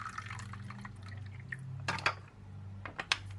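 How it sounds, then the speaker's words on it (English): A hot drink pours from a 0.5 L thermos into a cup, a soft close trickle and splash of liquid with a few sharper drips near the end, over a low steady hum. "I will press this one here to open, and I will pour"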